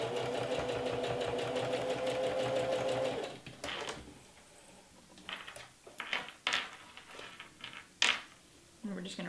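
A sewing machine stitches a cloth face mask in a steady, fast rattling run for a few seconds, then stops, followed by scattered clicks and light handling sounds.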